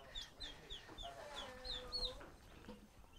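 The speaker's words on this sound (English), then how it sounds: "These are 2-week-old turkeys." Two-week-old turkey poults at a community organic farm peep steadily in a close, busy chorus of repeated high chirps, with soft low clucks and shuffling underneath and no talking.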